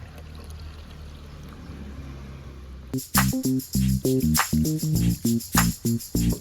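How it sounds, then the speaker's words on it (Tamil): Water poured from a cup into a pot while making Sri Lankan guava leaf tea in a village kitchen, a loud burst of splashing pours after a few seconds of quiet room hiss, close and alone. "இந்த கப்பாலேயே நான் தண்ணி அளந்து விட போகிறேன்."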